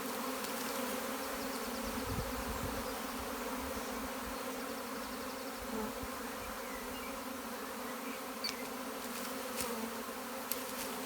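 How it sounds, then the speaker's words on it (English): A dense, steady buzzing of a swarm of honeybees in a basket fills the air, a continuous hum with occasional closer insects passing by, no talking. "And we have a basket full of bees."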